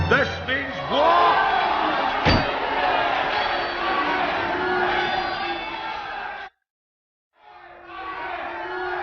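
Clans brawling at a gathering: a loud crowd roar with shouts and a sharp metallic clang, sustained, then a sudden break of silence before the rowdy noise resumes; a voice narrates over it.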